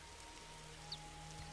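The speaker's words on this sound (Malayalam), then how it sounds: "ഓ അപ്പം തന്നെ മഴയും വന്നു." Rain falls in the Roblox survival game 99 Nights in the Forest as a soft, steady hiss of drops under a low hum, faint and continuous with one brief brighter tick.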